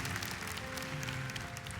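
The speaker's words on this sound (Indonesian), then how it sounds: "Tepuk tangan bagi Tuhan." A church congregation applauds during a sermon in a dense, steady burst of clapping, continuous for the whole brief moment with no voices on top.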